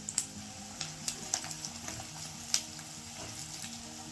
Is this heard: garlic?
yes